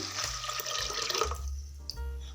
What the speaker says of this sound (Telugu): ఇప్పుడైతే ఇంకా ఫోర్ గ్లాసెస్ వాటర్ అయితే వేస్తున్నాను